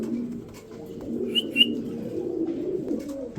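Pigeons at a pigeon market coo in soft, low, rolling murmurs close by, with two brief higher chirps partway through and no talk.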